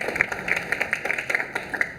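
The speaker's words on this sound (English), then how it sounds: "you can give them a round of applause" Audience applause from a crowd at a talk held at Intel, a short burst of dense, steady clapping.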